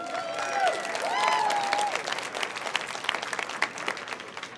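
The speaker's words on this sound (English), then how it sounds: "give yourselves a big round of applause for being here with us this evening" An audience at an evening corporate event applauds with dense, sustained clapping, a few whistles rising early on, with the sound tapering slightly toward the end.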